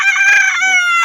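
A pet chicken gives one loud, close, drawn-out crow that fills the whole brief moment with no other sound.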